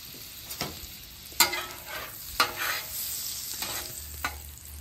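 A tablespoon of butter and avocado oil sizzle on a hot griddle, a close continuous hiss punctuated by several sharp scraping knocks of a spatula, no talking.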